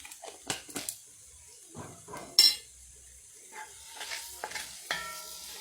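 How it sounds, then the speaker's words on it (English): Curry mince stirred in a pot with curry paste, heard as quiet, scattered scrapes and clinks of a spoon against the pot, with one sharper knock midway. "And we mix everything in."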